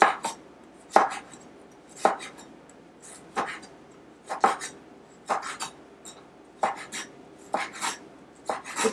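Crisp, sharp knife strokes on a cutting board as vegetables for spring rolls are sliced into thin julienne strips, coming in quick rhythmic bursts of several chops with short pauses between them.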